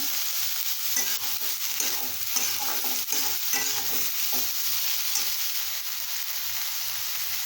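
Green chillies and onion sautéing on a stove over medium heat, a dense continuous sizzle with frequent stirring scrapes running throughout, close and fairly loud.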